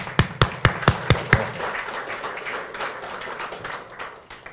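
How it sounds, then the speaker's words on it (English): A seminar audience starts clapping with a few sharp, distinct claps up close, then settles into a softer, thinner smattering of applause that fades out. "Round of applause"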